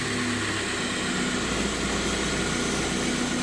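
A car engine runs steadily after being started, a loud, close, continuous hum and drone with no pauses or talking.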